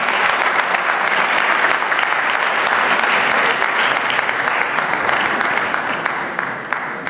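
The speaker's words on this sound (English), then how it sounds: "Trupti Vardekar, Sonal Patel, a huge round of applause for these guys" A large crowd claps loudly and steadily for several seconds, the applause gradually thinning out toward the end.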